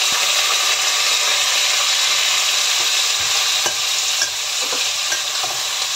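Beef sizzles steadily and loudly in a hot frying pan, a continuous close crackle broken by occasional scraping and clicking from stirring, with no voices.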